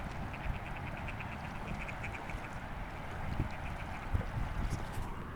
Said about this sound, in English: We've got 3 male mallards and a female.